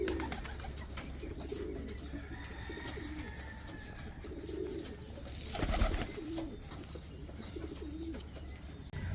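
Pigeons cooing nearby in a loft, several soft low throaty coos repeating at intervals over a steady background hum, with brief rustling in the middle.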